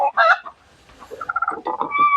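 Chickens in an open chicken run give a few loud, close squawks, followed by a string of rapid clucks and a drawn-out call.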